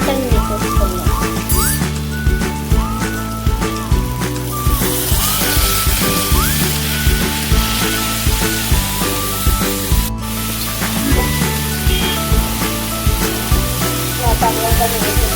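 Tomatoes hit a hot pan of okra for a spicy tomato stew, with a steady loud sizzle and spitting crackle running throughout, accompanied by background music.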